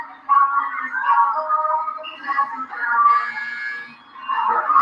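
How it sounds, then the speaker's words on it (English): A Tabata Pro interval timer sounds during a group fitness activity in a gym class, giving out sustained, loud electronic whistle and buzzer tones that run almost continuously with slight dips. "There's 3 whistles that come before the buzzer"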